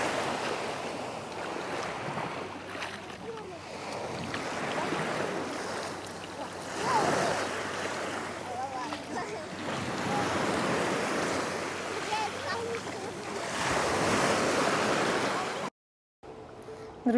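Sea waves roll onto a beach at Albatros beach in Novy Sochi, a continuous surf roar with surges that swell and recede, plus some wind buffeting on the microphone and a brief cut near the end.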